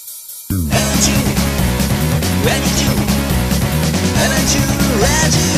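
Rock version of a sung radio jingle, with full band and vocals kicking in loudly after a brief silent start and playing at a steady, dense level throughout; a voice briefly speaks over the opening.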